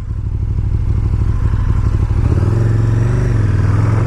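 A 2019 KTM 1290 Super Duke R rolls over loose gravel on a resurfaced road, its engine droning loud and close with a steady rumble and gritty clatter throughout, no voices present.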